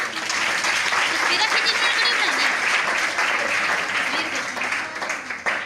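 A Sunday church congregation claps loudly in sustained, dense applause for the full stretch, with voices mixed in, fading slightly near the end.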